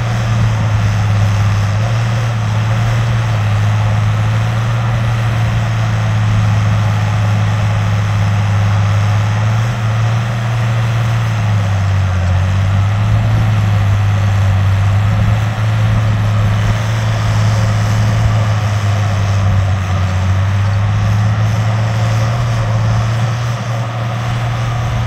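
Allis Chalmers 190XT Series 3 tractor pulling a three-shank Allis subsoiler through ground, its engine giving a loud, steady low drone with constant load and no speech.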